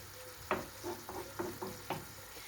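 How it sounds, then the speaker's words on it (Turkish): Wholemeal sourdough bread frying in a pan for a holiday breakfast, giving a steady close sizzle with several short scraping or stirring knocks spaced through it. "Burada ekmeğimizi kızartıyorum."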